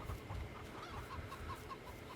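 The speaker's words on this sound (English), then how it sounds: "We got lots of chickens." Chickens cluck in a Farming Simulator 22 farmyard, a quiet, steady stream of soft repeated clucks from a flock, faint and continuous with no voices over it.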